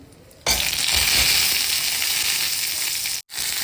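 Onions hitting hot oil in a pan with roasted coconut for sev bhaji, a sudden loud sizzle that bursts in and holds steady, broken by one brief gap near the end.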